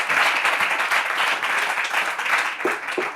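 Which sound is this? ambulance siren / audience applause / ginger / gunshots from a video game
audience applause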